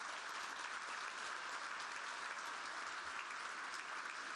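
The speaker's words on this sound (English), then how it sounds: "You all beat me because that was the next thing we were going to do, give everybody a round of applause" An audience at a youth leadership awards program applauds, a dense, steady wash of clapping from many hands sustained evenly throughout with no speech.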